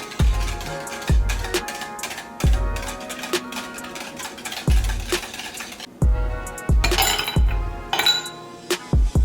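A spoon stirs Kool-Aid and simple syrup in a glass container, striking the sides in a run of bright clinks and taps, close and fairly loud, with a quicker jangle of knocks toward the end.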